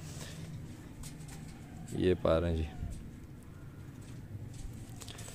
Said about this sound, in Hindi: ये नीलदुमे कबूतर हैं